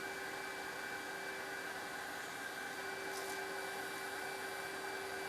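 Continuous, steady abrasive hiss of P180 sandpaper working over damaged car paint during a major paint repair, a broad even noise running throughout with no talk, close and fairly loud.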